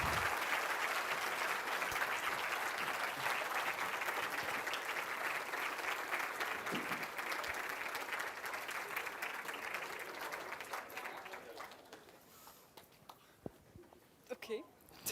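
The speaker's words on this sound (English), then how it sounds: "please join me in giving the biggest of applause of today for the SensUs organization" An award ceremony audience at the SensUs 2025 closing gives the SensUs organization a long, dense round of applause. The clapping stays loud for about ten seconds, then thins into scattered claps and faint voices before dying away.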